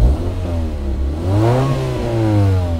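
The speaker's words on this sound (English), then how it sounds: "ignore the blowing exhaust" A warmed-up 2000 Honda Civic with a D14Z4 engine idles close by through a blowing exhaust, a steady raspy drone that swells briefly in a short rev and then settles back.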